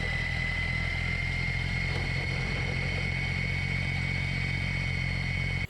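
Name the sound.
EGO 56V two-stage snow blower auger running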